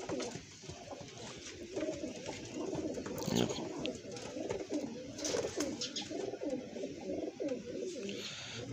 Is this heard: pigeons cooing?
yes